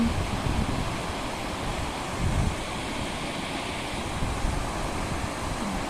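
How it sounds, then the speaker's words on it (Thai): Strong wind blows steadily across a rain-swollen stream during wet-weather fishing, a continuous broadband roar with gusting swells and no voices. "ที่นี่ลมแรงมากเลยค่ะ ทุกคน"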